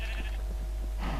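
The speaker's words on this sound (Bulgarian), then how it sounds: "те са много тъпи овце" Sheep in the Minecraft video game bleating, a loud, close, continuous wavering bleat alone with no talk.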